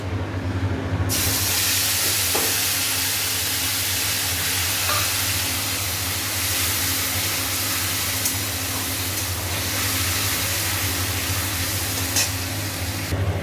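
Tomato paste sizzles steadily in hot oil seasoned with nigella seeds, turmeric, chili powder, cumin powder and salt, in a pan where fish was just fried; a constant, close frying hiss runs throughout with no talking.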